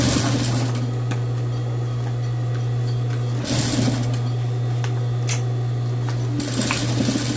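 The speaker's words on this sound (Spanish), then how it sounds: "Acomodo el bies y lo voy cosiendo por el interior." A sewing machine stitches bias binding onto a romper, running in a loud steady whirring hum with brief pauses and small clicks between bursts.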